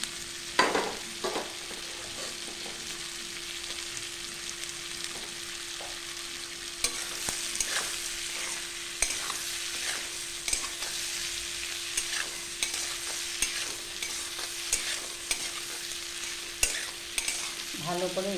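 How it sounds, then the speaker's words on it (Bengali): Green chillies and potatoes frying in a pan, with a steady close sizzle and intermittent scraping clicks from stirring, and no voices. "ভালো করে একটু এটাকে ভেজে নেব।"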